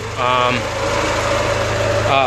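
A car fitted with a swapped Honda B18C engine idles steadily up close, a low continuous rumble with a voice talking over it.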